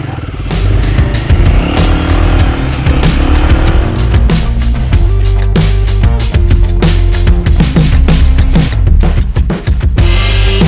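A Royal Enfield Guerrilla 450 motorcycle engine, loud and close, revving with rising and falling pitch through gear changes, its deep throbbing exhaust note sustained the whole time.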